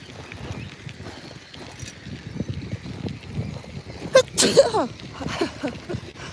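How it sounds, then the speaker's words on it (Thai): One loud sneeze bursts out partway through, over gusty wind and outdoor rustling noise. "จามเนาะ"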